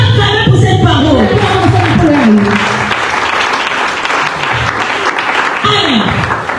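A church congregation applauds loudly and steadily throughout, with cheers and scattered voices mixed into the dense clapping, while a singing or speaking voice carries through the first few seconds.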